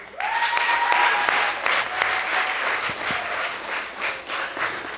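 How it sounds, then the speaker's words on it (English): A poetry slam audience applauds a poet: loud, dense clapping from a sizeable indoor crowd, steady for a few seconds and then thinning, with a few faint voices underneath. "Give it up for Adriana."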